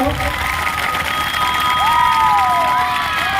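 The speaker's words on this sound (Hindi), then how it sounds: "इतना ताली बजाओ, इतना ताली बजाओ" Loud applause and cheering from a large crowd fills the whole stretch steadily, with shouts and a voice rising over the noise.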